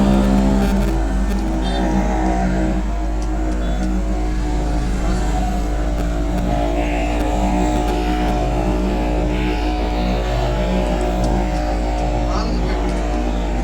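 Motorcycles rev loudly and continuously during bike racing stunts on a national highway near Penukonda, with a steady engine drone that rises and falls, close and dominant throughout.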